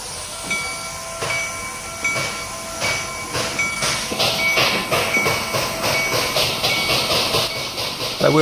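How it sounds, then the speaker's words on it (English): Grain train passing in the Transport Fever 2 video game: steady rolling wheel clatter with rhythmic rail clicks and a hissing, building slightly as it passes close, with no talk over it. "let's see where our new grain train is coming from"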